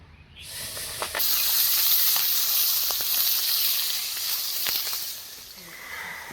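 Fish rubbed with salt and turmeric drops into smoking hot oil, setting off a loud, bright, continuous sizzle up close that holds steady with occasional pops and crackles before easing slightly.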